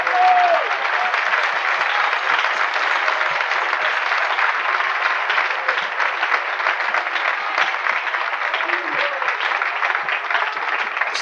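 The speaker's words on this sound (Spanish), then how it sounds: "Dale un aplauso al Señor," A church congregation claps together steadily and loudly, a dense continuous wash of applause filling the room at a Spanish-language sermon, with no talk over it.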